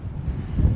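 A short burst of low, rumbling wind buffets the microphone at the top of the Atlantic City lighthouse, rising in strength toward the end.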